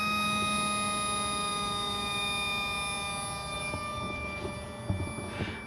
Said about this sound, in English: When there's no drag on the motor, it just spins and spins.